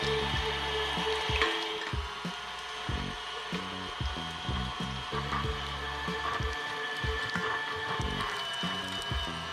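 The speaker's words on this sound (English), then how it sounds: "just to make it easier to run through the grinder" A meat grinder works partly frozen chicken through its feed tube, giving a steady mechanical whir with repeated low thumps and crunching pulses as chunks pass through; no talk is heard.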